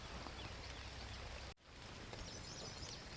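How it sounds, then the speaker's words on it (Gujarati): Steady monsoon rain patters softly on a village farm, a quiet continuous hiss with a brief dip partway through, no voices. "વરસાદ જો ચાલુ જ છે અત્યારે"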